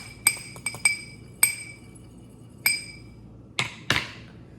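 Gochujang being stirred into a bowl of miso ramen made with shrimp and veggies, heard as a series of sharp, ringing clinks of a utensil against a glass or ceramic bowl, spaced irregularly, close and fairly loud, with no talking.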